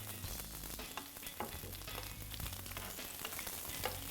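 Batter fries steadily in a pan of oil, a continuous dense sizzle and crackle with occasional louder pops and stirring scrapes, close and fairly quiet, with no talking.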